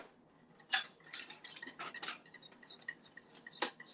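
Metal spoon clinking and scraping against a pot while lemon curd is stirred, a run of quick, close, fairly quiet taps and scrapes with no voices.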